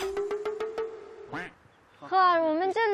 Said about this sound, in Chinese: 哟，这鸭子怎么出去了？